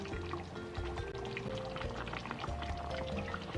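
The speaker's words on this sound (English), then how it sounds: "I'm going to add my coconut milk." Coconut milk being poured into a pot of slow-cooked goat curry, a steady liquid pour with soft splashing and gurgling throughout, close and continuous with no pause.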